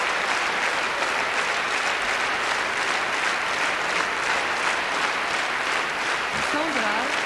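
Sustained applause from the audience at the 1986 Eurovision Song Contest greeting the winner, a dense, steady roar of clapping filling the hall from start to finish.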